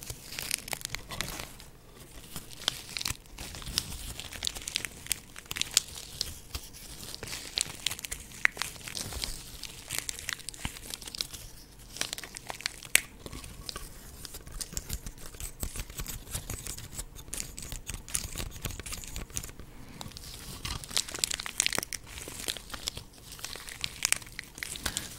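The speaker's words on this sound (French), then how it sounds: "le bruit des feuillages comme ça, artificiels" Continuous soft crinkling and rustling, like stiff plastic leaves being handled up close, with scattered sharper crackles throughout and no talking.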